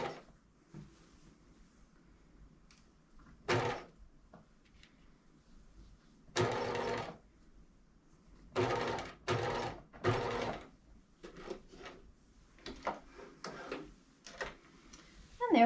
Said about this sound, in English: But you can just baste this on real quickly by machine. I'm using a nice long stitch length here.